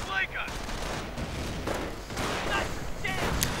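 Sniper shots and grenade blasts in a WWII strategy game crack out in several sharp bursts and booms across the battlefield, with someone commentating over the gunfire.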